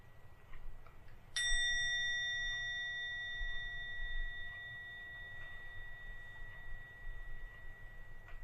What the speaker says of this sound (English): listen to every sound from the gong before you open your eyes